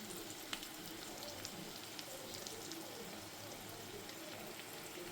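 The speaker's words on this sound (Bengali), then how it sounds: "এটা ভাজা হোক।" Potatoes lightly frying in a home kitchen pan give a steady, even sizzle with soft crackling pops, constant and unbroken for the whole stretch, close and moderately loud with no talking.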